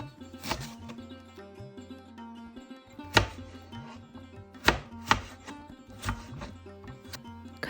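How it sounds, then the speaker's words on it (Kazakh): A knife chops cabbage, bell pepper and potatoes on a cutting board, sharp irregular thuds and cracks, some louder strikes standing out, over soft background music with no talking. "Ет піскенше капустаны, болгар бұрышын және картопты турап дайындап қоямыз."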